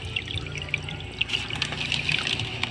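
Water trickling and splashing from the outlet of a small 4.2-watt DC brushless hydroponic pump, a faint, close, continuous babble with irregular droplet splashes.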